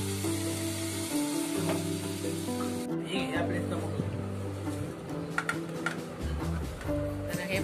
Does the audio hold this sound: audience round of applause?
no